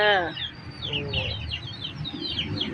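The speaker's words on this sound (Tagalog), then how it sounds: "Yan din ang mga manok guys." Several chickens cluck and chirp nearby with short, busy calls overlapping one another, opening with a louder squawk.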